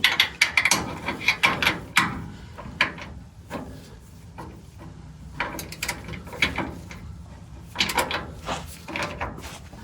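A ratchet clicks in short, uneven bursts while tightening camber adjustment bolts on the suspension of a 1936 Chevy coupe with a Crown Victoria swap, with clanks and pauses between strokes.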